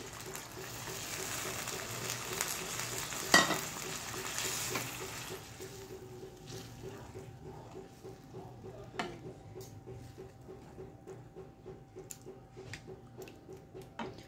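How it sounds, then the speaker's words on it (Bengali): Water poured into a pan of jute greens and masoor lentils frying on the stove, a soft sizzle that briefly flares with a splash, then settles into a quiet, steady bubbling simmer. "আমি পরিমাণ মতো এখানে জল দিয়ে দিচ্ছি।"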